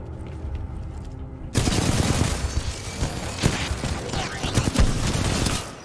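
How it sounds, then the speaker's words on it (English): Rapid bursts of automatic gunfire aimed at the player in the shooter game Titanfall 2, loud and close, cracking in quick successive volleys after a quieter opening. "What is shooting me?"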